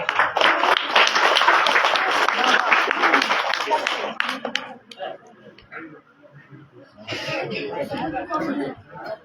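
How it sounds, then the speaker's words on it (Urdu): Applause for a first-place student in a na'at recitation contest at a school prize ceremony, a dense burst of clapping that fades out midway, then returns more loosely amid crowd chatter. "تالیاں ہو جائیں"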